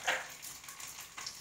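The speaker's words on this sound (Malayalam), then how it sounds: "അതിലേക്ക് ഞാൻ കടുകിട്ട് കൊടുക്കുന്നുണ്ട്." Mustard seeds crackle and sizzle in hot coconut oil in a pan, a brief burst of sharp pops over a soft, steady frying hiss, close and fairly quiet.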